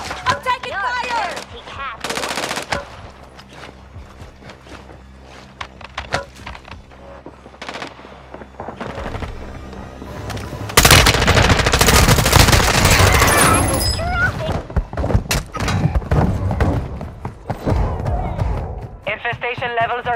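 Bursts of rifle and machine-gun fire crack through a Warzone 2 Zombie Royale match on Xbox Series X, scattered shots giving way to heavy sustained firing midway, with voices talking over the action.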